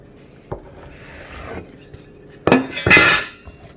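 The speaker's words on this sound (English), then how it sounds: "I'm going to use my dough scraper. And I'm going to cut this in half to make two" Metal dough scraper cutting sourdough rye dough on a kitchen counter: a soft tap, then a scraping rub, followed by two loud, close scrapes.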